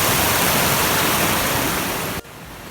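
A river along the Rinjani trail on the Sembalun–Torean route rushes loudly and steadily in a dense broadband wash, then drops off sharply near the end.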